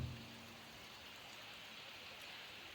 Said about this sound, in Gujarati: કેટલો વરસાદ પડે છે મિત્રો